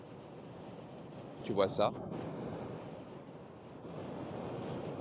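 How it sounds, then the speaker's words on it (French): Strong wind buffets a moving 2025 Dacia Duster crossing a bridge on the German Autobahn, a steady broadband roar with gusts, while a voice briefly speaks over it. "Le vent est vraiment fort, certainement."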